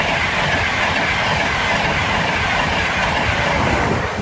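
A Class 82 set from Edinburgh Waverley rushes through Bathley Lane level crossing, a loud, steady, close rumble of wheels on rail with faint clickety-clack throughout.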